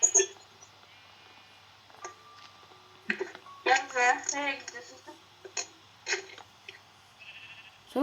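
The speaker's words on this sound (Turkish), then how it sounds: "Baksana koyun." Sheep bleat in a Minecraft Skyblock game, a few short electronic-sounding bleats amid clicks and game effects, with people talking now and then.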